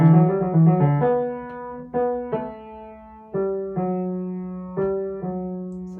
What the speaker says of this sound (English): So the theme of the fugue sounds like this.